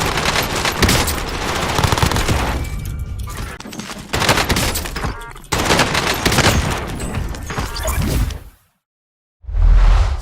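MP5 submachine gun firing in Call of Duty Warzone, loud sustained automatic bursts with brief gaps between strings of rapid shots, then a sudden silence before another burst starts.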